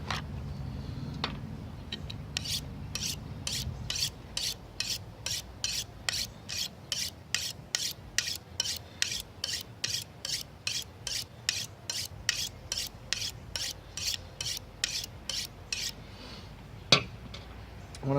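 A fillet knife is drawn repeatedly across a sharpener in quick, even strokes, a steady run of dry rasping scrapes that is close and fairly quiet with no talking.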